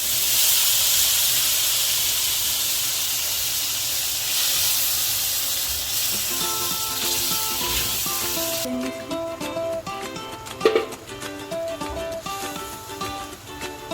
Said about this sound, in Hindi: जो हमारा ये टमाटो प्यूरी था वो हम इसमें डाल देंगे